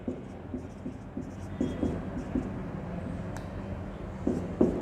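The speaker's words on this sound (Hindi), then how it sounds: "मैं नीचे लिखता जा रहा हूँ" Chalk or marker writing on a board during a maths lecture on differentiation, soft scratchy strokes tapping out an uneven rhythm against a noisy room background, with no speech.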